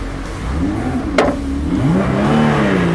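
A Lotus Cup R sports car's engine revs while driving, a loud, continuous rising and falling drone heard up close with no talking.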